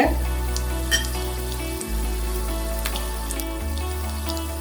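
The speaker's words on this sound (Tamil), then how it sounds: "வெந்தயம், மிளகாய், இதெல்லாம் போட்டு மிளகு எல்லாம் போட்டு வறுக்கணும்" Fenugreek, dried chillies and peppercorns dry roasting in a pan for bisi bele baath, a steady close sizzle and crackle with faint scattered pops over a low hum, no talk.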